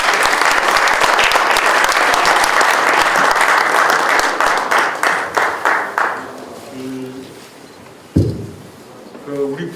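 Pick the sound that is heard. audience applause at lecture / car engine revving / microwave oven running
audience applause at lecture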